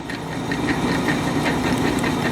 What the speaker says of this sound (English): now I'm drilling a 3/8 hole